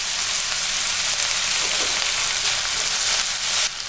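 A medium tomato sautés with a little salt in a hot pan, producing a dense, even sizzle that stays loud and close throughout, with a slight shift near the end and no talking.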